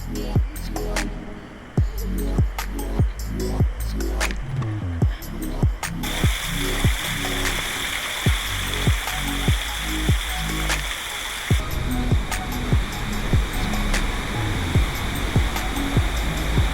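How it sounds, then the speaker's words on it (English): A waterfall in North Bali roars with a steady loud rush of falling water, broken by repeated rhythmic thuds and footstep-like knocks close to the microphone. "That is a beautiful waterfall."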